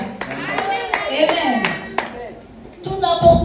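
Hand claps ring out in a church congregation, a run of sharp irregular claps mixed with voices and a sung or spoken amen, the clapping fading midway and returning near the end.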